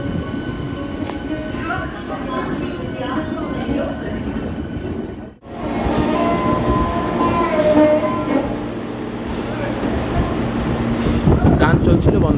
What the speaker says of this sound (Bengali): আর এই যে আমাদের পাশে দাঁড়িয়ে রয়েছে হাওড়া বেলুড় মঠ লোকাল, তোমরা দেখতেই পাচ্ছ।